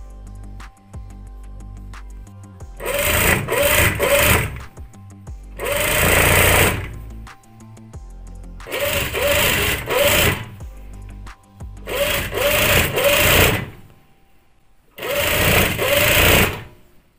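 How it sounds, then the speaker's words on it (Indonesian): A sewing machine stitches along a bergo hijab strap in five loud, close bursts of two to three seconds each, separated by short pauses, with no talk. "kemudian jahit di sisi ini sepanjang tali"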